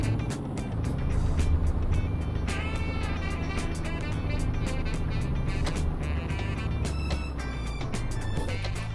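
A heavy truck engine in the Euro Truck Simulator 2 driving game runs steadily for the whole stretch, a loud, continuous low rumble with a faint rising whine and no talk over it.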